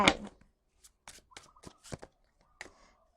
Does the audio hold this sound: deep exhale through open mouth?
no